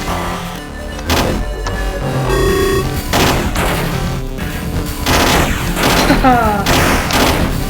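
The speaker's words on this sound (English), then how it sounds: "It's fun to get a good streak on the machine gun." Machine gun fire in a video game, dense overlapping bursts and booms filling the whole stretch at a steady loud level, with game effects layered over the shooting.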